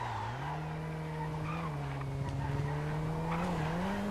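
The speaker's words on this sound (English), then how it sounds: "Oh, I can overtake for the lead with the Cyclone." A Cyclone car in a GTA FiveM race surges to overtake for the lead, its steady engine whine holding and rising in pitch beneath a drawn-out squeal of skidding tyres, loud and close with no talking.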